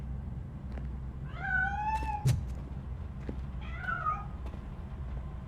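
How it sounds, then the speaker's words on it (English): A cat meows twice in the RoboCop Rogue City video game, two drawn-out, wavering cries a couple of seconds apart over a low rumbling game ambience. "That cat must be hiding inside."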